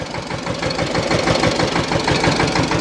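A small diesel farm tractor engine running steadily at idle, a close, loud and even knocking chug with a regular rapid beat.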